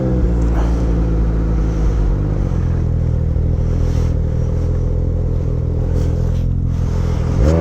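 A Ski-Doo 900 ACE Turbo snowmobile engine roars loudly and continuously on a first ride, its throttle held open with a steady, droning pitch, heard very close with only small rises in revs.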